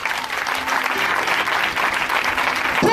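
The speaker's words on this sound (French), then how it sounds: "Est-ce qu'on peut acclamer le Seigneur?" A church congregation applauds and cheers the Lord during a worship service, a dense, steady wash of clapping from many hands filling the room throughout.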